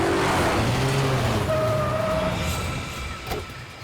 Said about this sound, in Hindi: गाड़ी मत रोकना, तेज चला गाड़ी, तेज चला।